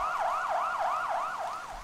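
Ambulance siren wailing in a fast, regular up-and-down sweep, loud and steady throughout without any voices.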